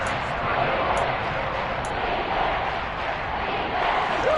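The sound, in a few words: football stadium crowd cheering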